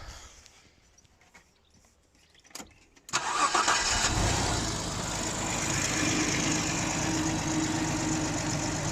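A 1989 Ford Granada Scorpio 2.9i Mk3 starts after a quiet moment of faint clicks, the starter catching into a sudden loud burst that settles into a steady, close idle.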